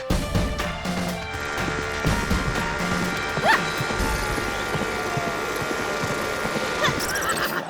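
Cartoon horse in an animated comedy series neighs loudly, with clip-clopping hooves under a busy music-and-effects bed, plus crashes and whacks throughout.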